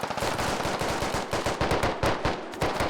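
Sustained machine gun fire in the military shooter game Squad: rapid, dense bursts of automatic shots in a continuous rattling stream, loud and close, with brief gaps between bursts and no talking.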